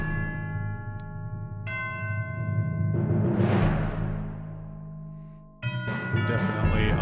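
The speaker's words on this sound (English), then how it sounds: "But timpani and chimes and the bass drum." An epic film-style orchestral score rings out with sustained tuned chimes striking in several successive entries over a low rumbling timpani and bass drum swell, loud and full.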